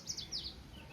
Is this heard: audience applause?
no